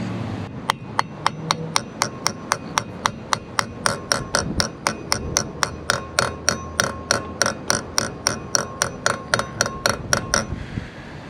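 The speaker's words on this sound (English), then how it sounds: "You can hear once it's seated, you know, the hammer, it sounds different." A hammer gives a steady run of about thirty sharp metallic taps, roughly three per second and close up, as a new brake rotor is seated on an RV during a brake change.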